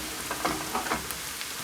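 Ginger, onion and garlic sauté in a pan for vegetable wheat pasta, a steady close sizzle with a few soft stirring scrapes and small pops, with no voices.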